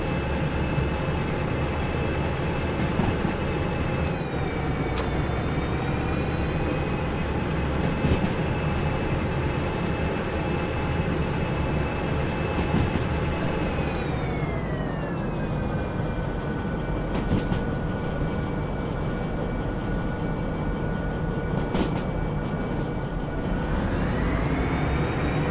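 A long freight train hauling steel rails rolls steadily through Derail Valley, a continuous loud rumble of wheels and wagons with a sustained tonal whine that slowly shifts in pitch, no voices.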